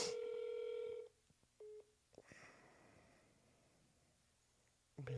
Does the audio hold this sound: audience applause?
no